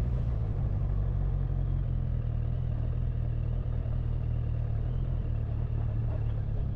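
A car on street tires rolls onto a dirt path, giving a steady, close low rumble of engine and tire noise with faint gravelly clatter throughout, no voices.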